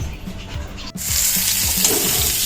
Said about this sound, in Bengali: এবার আমি চিকেন রান্না করছি